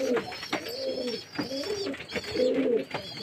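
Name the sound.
pigeons cooing in loft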